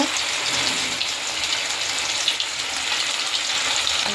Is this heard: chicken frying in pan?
yes